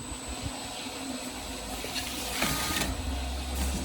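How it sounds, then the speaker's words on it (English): An APEL40PL label applicator machine runs a pouch through, giving a steady, moderately loud mechanical whir and hum with faint clicks and no talk. "turn the machine back on and run one pouch through"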